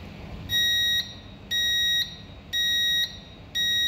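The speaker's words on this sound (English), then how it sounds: "So see, after 15 seconds it shows an alarm." A ship's bridge navigational watch alarm system (BNWAS) sounds in loud, regular half-second beeps, four repeating pulses of a shrill tone with short gaps between them.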